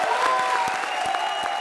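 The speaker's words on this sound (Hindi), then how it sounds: "जोरदार तालियां" Loud studio audience applause on a Hindi comedy show, a brief dense burst of clapping with scattered sharper claps, heard close and steady under a sustained background tone.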